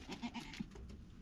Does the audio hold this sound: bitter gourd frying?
no